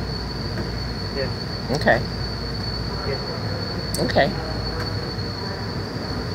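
A BART train at Del Norte station, a steady rumbling rail hum with a constant high whine and brief metallic squeals, while people talk briefly nearby.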